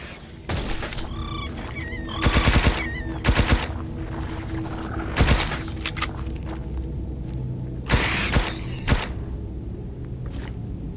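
Rapid bursts of video-game gunfire, loud and close, come in clustered volleys of automatic shots over a steady droning background, with some broken chatter between bursts.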